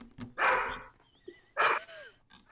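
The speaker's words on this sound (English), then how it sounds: "I don't think animals stop barking" A dog barks twice in short bursts, close and fairly loud, with quiet pauses and faint whines between the barks.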